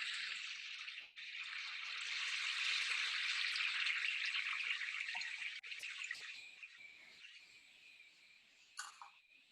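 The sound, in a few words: recorded sound of a water spring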